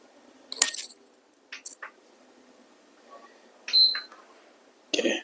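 A PlayStation 5 console powering up after a power supply repair gives a short single beep amid faint clicks and small handling noises in a quiet room.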